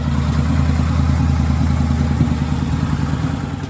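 A tuned 2013 Harley-Davidson Night Rod with a 1250cc, 125-horsepower engine idles close by, its deep steady rumbling throb loud and constant throughout with a slight mechanical clatter and no voices.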